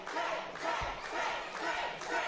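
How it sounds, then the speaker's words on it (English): Crowd at an independent wrestling show cheers and chants in rhythmic waves, a dense roar swelling and falling in regular surges with a dull thud amid it. "this Lamont Furnace crowd responding very well to Trey Lamar"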